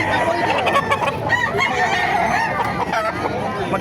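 Roosters crow and chickens cluck loudly and continuously at a live chicken market in Bocaue, Bulacan, with several birds overlapping close by amid a busy crowd.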